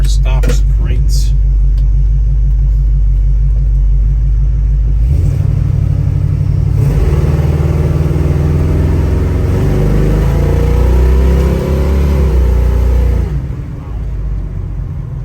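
A 1972 Chevrolet Nova with a 427 engine driving, its deep rumbling exhaust loud and close, rising and settling through gear changes before easing off, with someone talking over the engine.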